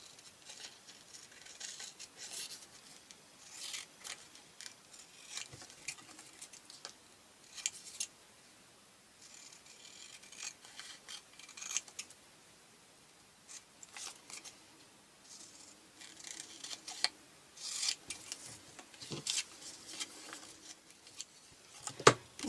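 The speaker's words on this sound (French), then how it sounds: "Je vais les découper avec mes ciseaux" Scissors snip through small paper pockets in many quick, quiet cuts, irregular and close, with faint paper rustling between them.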